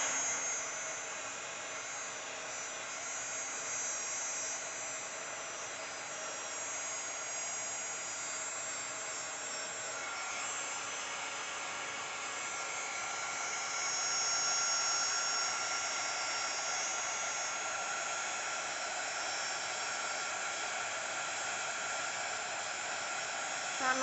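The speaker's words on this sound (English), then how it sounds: "I'm going to use my heat gun real quick. Let's heat it up." A heat gun drying a mixed-media Christmas tag blows for the whole stretch as a constant, even whine and rush of air, close and unbroken, with no voices over it.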